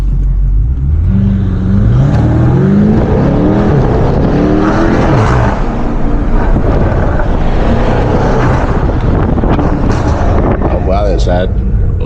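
A 640-horsepower BMW M550i pulls hard at night, its engine note rising through gears with loud exhaust rumble and wind buffeting from inside the cabin while occupants talk over it.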